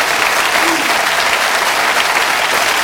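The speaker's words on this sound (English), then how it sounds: "Give them a round of applause, ladies and gentlemen." Sustained studio audience applause fills the whole stretch, dense and steady at even loudness, with no break and no clear voice over it.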